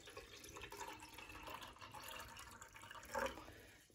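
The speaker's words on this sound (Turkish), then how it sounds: "Şöyle üzerine musluk suyu ilave ediyoruz." Tap water runs into a heat-resistant glass pot in a kitchen, a soft, quiet stream with a brief louder splash near the end. Nobody talks.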